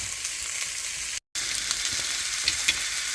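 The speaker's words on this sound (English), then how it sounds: "we got a good brown, good sear on our shanks here" Venison shanks searing in a hot pan give a steady, loud sizzle and crackle that runs throughout with only a brief cut, and no talking.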